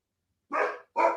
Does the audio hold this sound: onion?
no